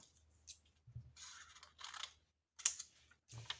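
Scissors cut tracing paper in a quiet room, making close, crisp snips and crinkling rustles in short bursts with pauses between them.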